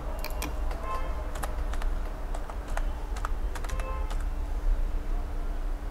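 Rapid clicking keystrokes on a computer keyboard while entering text in a Microsoft Excel 2016 spreadsheet, irregular bursts of taps over a low steady room hum.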